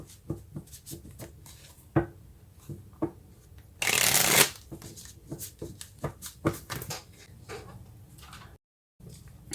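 Tarot cards are shuffled by hand in a series of crisp riffling flicks and taps, with one dense, loud burst of rapid riffling in the middle before the shuffling softens and briefly stops.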